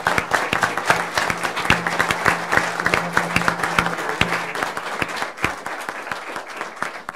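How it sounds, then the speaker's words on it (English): Audience applause in a Pleasant Grove city meeting for the newly sworn Utah County Sheriff, a dense steady clapping from a roomful of people lasting several seconds, with a low hum running underneath. "we ought to give him an applaud for that"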